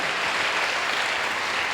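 A church congregation applauds at an evening prayer service, a thick continuous burst of clapping that fills the room at steady loudness without pause.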